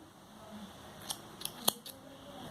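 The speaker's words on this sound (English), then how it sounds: "Do chain 1 and snip off this yarn." Scissors snip through crochet yarn in a few quiet, sharp cuts spaced about a third of a second apart, close up against a faint room hush with no voices.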